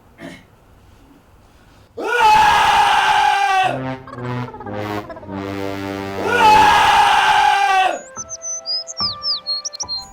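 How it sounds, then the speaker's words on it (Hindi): Loud, sustained human screams in a screaming contest, two long high-pitched bursts separated by a stretch of lower voiced sound, followed by faint chirping tones. "ये सबसे ऊंची चीख है जी।"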